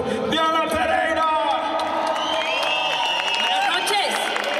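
A crowd at the Car Audio Rock Festival 2016 claps and cheers for a singer, a dense wash of applause and whoops with shouts and a voice over it.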